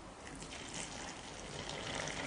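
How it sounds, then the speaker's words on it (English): Water from a jug pours steadily into a dish of corn flour, a continuous close splashing trickle with no pauses. "you're going to pour the water"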